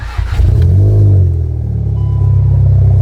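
R700 engine with a previously stuck throttle body revving up loudly and steadily, a deep mid-range rumble rising and holding as the throttle opens, close by with no talk.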